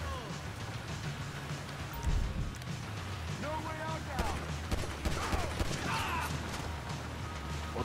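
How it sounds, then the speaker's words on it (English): Gunfire during a shootout in the video game GTA V, with bursts of shots and crashing effects over game noise, while someone talks over the action. "I'm still getting shot from here"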